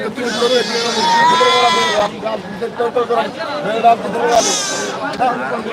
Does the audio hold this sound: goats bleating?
yes